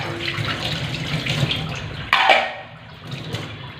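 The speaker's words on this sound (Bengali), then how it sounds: "হাঁড়িগুলো ভরে নিই।" Tap water gushes into cooking pots in a kitchen, a steady splashing stream that swells with a sudden louder surge near the middle and then settles into a quieter run as the vessel fills.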